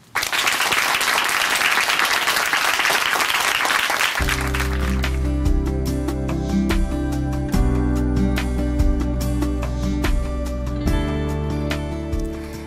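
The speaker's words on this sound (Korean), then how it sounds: "박수로 모시겠습니다" A church audience applauds to welcome a speaker onto a Christian television programme: about four seconds of loud, dense clapping, which then gives way to steady instrumental music.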